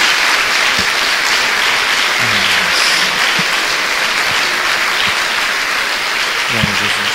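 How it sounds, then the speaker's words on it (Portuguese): A crowd claps steadily throughout a religious service, dense and sustained applause, with a few faint voices and shouts mixed in. "Dá uma salva de palmas a Jesus."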